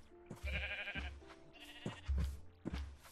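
Minecraft sheep bleat several times in short, wavering calls with brief gaps between them, close by and fairly clear, with no talk.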